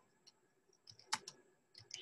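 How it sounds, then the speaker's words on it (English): Sparse keystrokes on a computer keyboard, a few separate clicks and taps spaced irregularly, quiet and close, with no talking. "I want to type in here"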